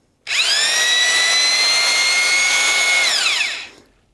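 A drill with a Level 5 paddle mixing drywall mud spins up sharply, holds a steady high whine for about three seconds, then winds down. Close and loud, no talk.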